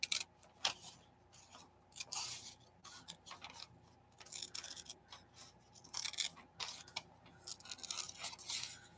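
Large scissors snipping through harvested plants, quiet and close, with repeated short crisp cuts and rustling of stems in an irregular rhythm.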